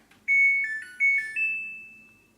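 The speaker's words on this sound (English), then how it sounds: "To switch the washing machine on, press the power button." A washing machine switched on with its power button plays a short electronic melody of clear beeping tones, a few stepped notes ending on a longer held tone, loud and close with nothing else heard.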